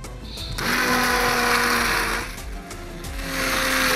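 Hand blender pureeing milky celery soup in a home kitchen, a loud whirring motor running continuously, dipping briefly mid-way as the blade is shifted, then revving again.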